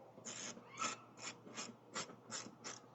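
A screw threaded by hand into a 2021 Mazda CX-5 front splash guard, giving seven short ratcheting clicks in a steady rhythm, close and fairly quiet, with no talk.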